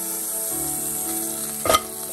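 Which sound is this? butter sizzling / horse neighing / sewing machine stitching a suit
butter sizzling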